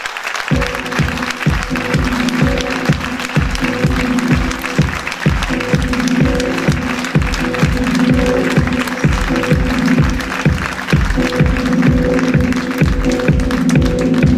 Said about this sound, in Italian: accogliamola con un gran bel applauso, anche lei lo voglio forte forte forte, per Veronica Avanzolini.